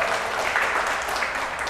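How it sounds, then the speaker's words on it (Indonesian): An indoor audience at an Indonesian school workshop gives steady, dense applause that holds at an even level from start to finish. "Tepuk tangannya Bapak Ibu."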